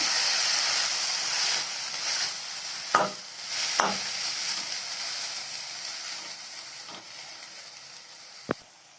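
Onion and chopped capsicum sauté in a pan for white sauce pasta, giving a steady close sizzle and hiss with a couple of sharp stirring knocks and a final clack.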